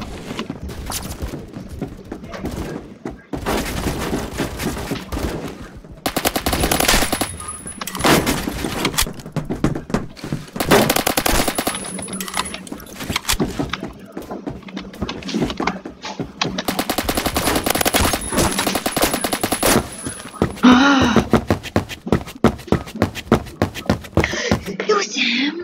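Bursts of gunfire from a shooter video game with a sniper rifle and suppressor, repeated sharp shots and rapid automatic volleys in clusters, loud and close, with a voice talking over parts of it.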